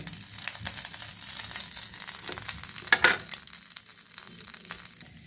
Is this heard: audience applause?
no